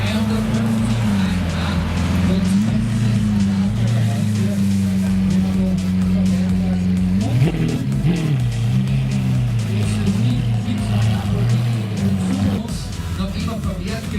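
A Lamborghini V12 with 740 hp runs continuously throughout, its low steady drone rising in a brief rev partway through before settling again, while people talk over it.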